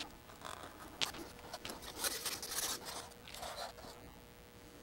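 A blade scores and slices model road material, faint close scratchy strokes in a few passes over a steady background hiss.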